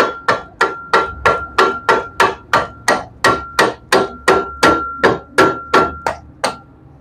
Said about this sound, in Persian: قسمتی که میخوای ضربه بزنی دیگه با چکش آهنی ضربه نزن روی سیلندر، با یک چکش پلاستیکی بزن.